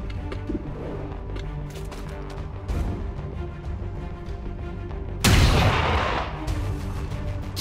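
Sniper rifle fire in the strategy video game XCOM 2, a sudden loud burst cutting in over a steady low game ambience with faint bird-like calls, ringing out and decaying over the final seconds.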